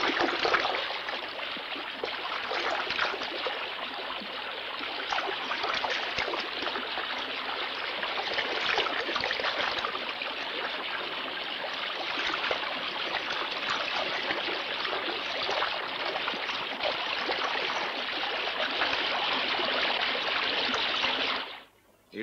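A swollen river flows in a western setting, a dense, steady rushing roar of water that fills the scene continuously for over twenty seconds before cutting off abruptly, with no talk.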